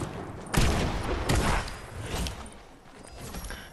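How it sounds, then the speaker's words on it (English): Gunfire from the Fortnite shooter game, a few loud, punchy shots in quick succession near the start followed by fainter scattered reports and fading rumble, with no talking. "This person over there, he's shooting me."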